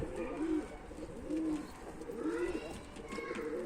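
Pigeons coo in repeated low rolling calls at a loft where a blue Mardin pigeon has landed, steady outdoor background underneath, fairly close and moderately loud.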